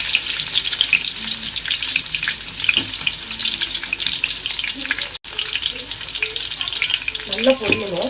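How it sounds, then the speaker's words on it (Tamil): Large onions sizzle and fry steadily in hot oil for biryani, a continuous close crackle with occasional stirring scrapes and a brief clatter near the end. "அந்த ஸ்டேஜில் பார்த்தீங்கன்னா பெரிய வெங்காயம் போட்டுக்கலாம்"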